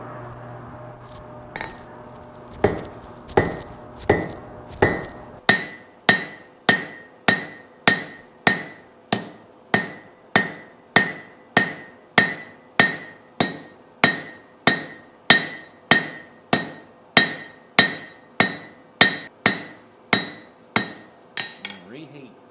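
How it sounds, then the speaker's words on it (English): A blacksmith's hammer strikes a hot steel slug on an anvil, flattening its end to forge a leaf: a long, steady run of loud, ringing metallic blows at an even rhythm, close up and with no talk. "I'm gonna pull it out and start flattening this slug on the end."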